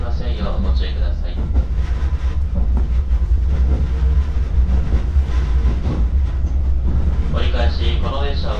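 A JR East Joban Line local train rumbles steadily from inside the car, with a continuous low drone and faint rhythmic clatter while an onboard announcement voice talks over it.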